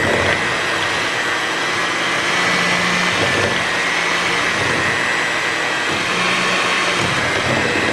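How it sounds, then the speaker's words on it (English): A hand mixer runs continuously, loud and close, with a steady whirring roar as it blends a brown sugar dip, with no speech over it. "all I'm gonna do is mix this together with my hand mixer."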